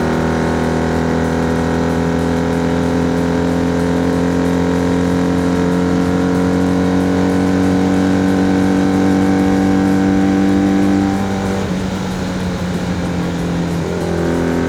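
A 1980 Honda CB 400 N motorcycle set up as a scrambler, its engine droning steadily and loudly at close range while riding, holding a constant pitch before shifting briefly near the end.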